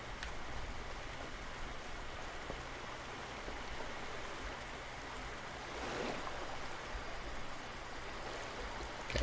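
A waterfall in the video game Pine pours with a steady, soft rushing wash of water that holds even throughout, with no voices over it.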